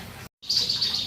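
A caged murai, a white-rumped shama songbird, chirps in high, bright, clear notes close by after a brief cut to silence, singing alone with no talk.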